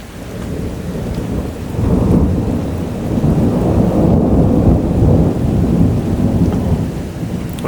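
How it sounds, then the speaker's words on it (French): Strong thunderstorm over Bordeaux: steady heavy rain with rolling thunder rumbling underneath, loud and enveloping, intensifying after the first couple of seconds and staying dense throughout. "l'orage est en train de s'éloigner vers le nord"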